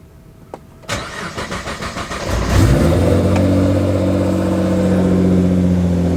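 A Nissan GT-R V6 cranks over with a rhythmic starter whir, then catches and fires into a loud, steady idle right up close, with no one talking.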